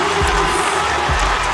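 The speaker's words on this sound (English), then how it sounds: "Have a listen to the crowd." A big AFL stadium crowd roars and cheers as Port Adelaide seal a four-point win, a loud, continuous wall of voices with scattered shouts and whistles.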